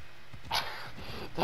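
Inside the game Assassin's Creed Odyssey, a dog lets out a single sharp bark midway, with a second yelp beginning at the close, over a low murmur of in-game ambience.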